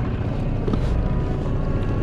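A small outboard engine drones steadily on a Jonny Boat fishing kayak at sea off Jamaica, a constant low rumble mixed with wind noise and no pauses.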